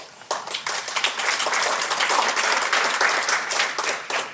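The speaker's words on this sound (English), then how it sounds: "give all of yourselves a big hand for what we've accomplished this year" Audience at a Space Coast TPO board meeting breaking into sustained applause, a dense steady clapping that starts abruptly and carries on loud and even throughout, with no talking over it.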